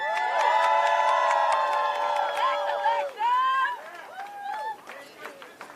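A crowd at a rally for student debt cancellation cheers and whoops for a speaker, with overlapping high shouts and voices rising and falling, fairly loud and close, tapering off toward the end.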